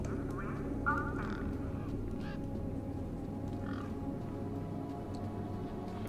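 Bird calls in the video game Beyond a Steel Sky, a few short quacking, duck-like squawks over a steady low game-ambience hum, fairly faint.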